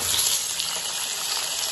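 Chicken pieces added to a hot pot of fried onions for chicken biryani, sizzling and frying in a steady, loud, close hiss that runs unbroken with no talk.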